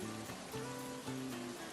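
Cold cartoon rain falls as a dense, steady hiss, with sustained musical tones playing over it throughout.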